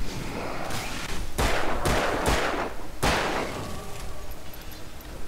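Shotgun blasts in the Alan Wake video game: roughly five heavy booming shots in an uneven sequence over the first three seconds, loud and close, each with a short decaying tail.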